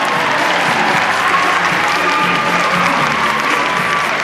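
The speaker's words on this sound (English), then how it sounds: "Give her a round of applause" A crowd at the Supanova Perth 2015 cosplay contest claps loudly and steadily, a dense wall of applause with scattered cheers lasting throughout.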